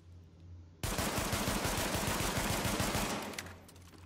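A high-end pistol fires in The Division on Xbox One, a fast run of sharp, loud shots for about two and a half seconds, with quieter game background sound before and after.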